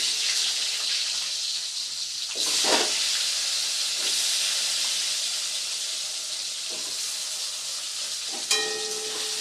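Potato pieces fry with tempered spices in a pan, a loud, hissing sizzle that swells in bursts as the potatoes are stirred, close up and continuous with no talking.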